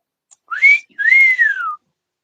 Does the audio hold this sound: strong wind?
no